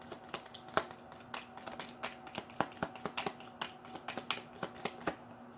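Tarot cards being shuffled in a quiet room, giving a quick series of crisp, close riffle and slap clicks in an uneven rhythm, fairly soft, with no voices.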